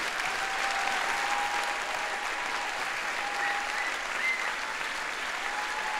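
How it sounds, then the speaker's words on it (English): Sustained, even applause from a large audience fills a hall at a film festival opening ceremony, a dense patter of clapping that holds steady throughout without voices. "Je vous demande de les applaudir très fort."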